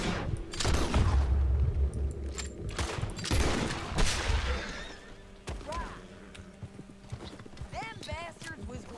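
Bursts of gunfire in the Red Dead Redemption II epilogue, loud and clustered in the first half, mixed with clip-clopping horse hooves and a whinny, while voices talk over the action.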